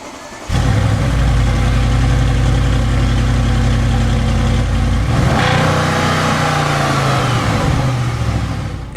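An Audi RS7 with its stock exhaust starts and runs, settling into a loud, low, smooth idle that shifts pitch slightly partway through as the engine is revved lightly, close by and without talk.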